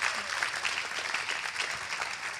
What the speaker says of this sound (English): let's finish this with a big applause to John